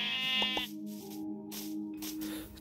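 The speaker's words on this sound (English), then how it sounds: "But the sheep sounds remained the same." Sheep bleating in the Minecraft video game, one long wavering bleat followed by a shorter one, clear and close with no talk.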